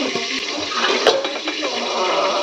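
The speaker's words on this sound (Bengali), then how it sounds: "তুহিন এসছে টয়লেট ক্লিনিং করতে" A toilet flushes in a home bathroom while it is being cleaned, producing a steady, close rush of water that runs unbroken for a couple of seconds.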